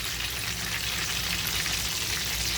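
Chicken kabab rolls fry in hot oil over medium gas, producing a dense, continuous close sizzle with a fine spattering texture, steady and alone.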